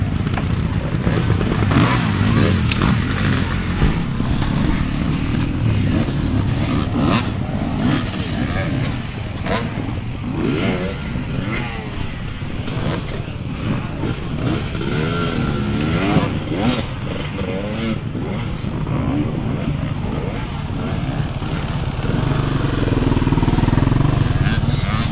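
An enduro motorcycle at the SISU Extreme Enduro 2023 prologue at Ellivuori revs and accelerates up a ski slope, its engine note rising and falling in bursts, heard loud and sustained under a commentator's continuous talk.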